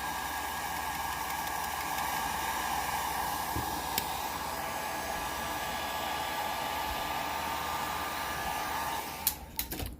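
Hair dryer blowing steadily on an alcohol marker card, a constant airy whoosh at low level that cuts off near the end with a few small clicks and bumps.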